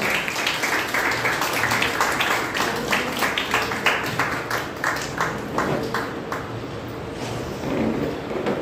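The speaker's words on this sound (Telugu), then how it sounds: "చప్పట్లు కొడుతూ ఆమెను ఆహ్వానిస్తారు" An audience at a church women's retreat claps to welcome a woman forward to share her testimony: dense, steady applause that holds at an even level throughout, with no voices over it.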